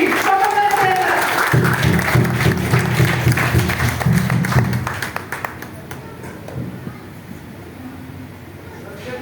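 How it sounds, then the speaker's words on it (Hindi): An audience at an indoor business-plan presentation claps together, a loud burst of many hands with a murmur of voices underneath that thins and fades out about halfway, leaving a quieter room. "एक बार जोरदार तालियां सब।"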